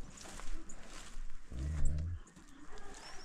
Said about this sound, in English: Yeah, Marlowe's a Pyrenees